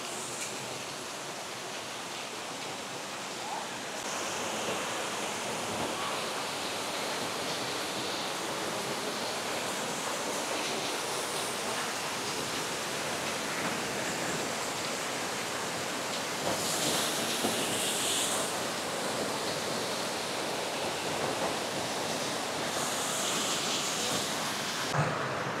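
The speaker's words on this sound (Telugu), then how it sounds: "ఇదే Mackenzie falls, విక్టోరియాస్ largest water fall." McKenzie Falls, Victoria's largest waterfall, gives a steady, dense roar of rushing water that fills the whole stretch, with occasional bursts of wind against the microphone.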